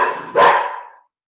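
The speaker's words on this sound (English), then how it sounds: "My golden retriever is barking." A golden retriever barks once, loud and close, the single bark ringing out and fading in a quiet room.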